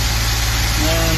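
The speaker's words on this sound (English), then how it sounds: "Starts right up. Nice and happy. And that's the normal idle." Suzuki Super Carry mini truck idling steadily, a close, even low-pitched engine hum with faint mechanical whine, continuous and unchanging, no voices.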